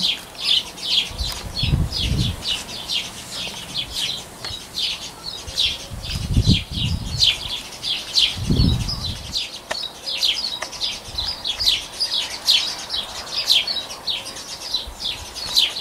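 A flock of about fifty small birds chirps continuously at high pitch, with a few bursts of wings flapping nearby.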